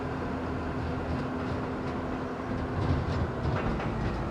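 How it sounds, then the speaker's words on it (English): Steady rumble and rhythmic clatter of a train in the video game Farming Simulator 25, a continuous, fairly loud rail noise with no talking over it. "So, if the train doesn't stop, but can you get in the train and stop it yourself manually?"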